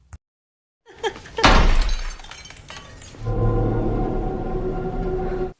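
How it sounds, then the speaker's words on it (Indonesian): A window pane shatters in a film sound effect: a sharp crash and burst of breaking glass, followed by a sustained eerie droning tone. "ternyata jendelanya pecah"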